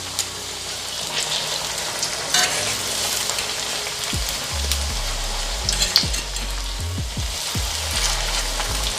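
Jamaican salt fish fritters frying in hot oil, giving a steady crackling sizzle with occasional sharper pops and a low rumbling background underneath.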